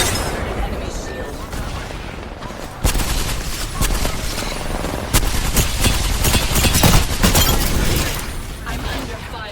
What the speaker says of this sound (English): I'm under fire. Enemy on me.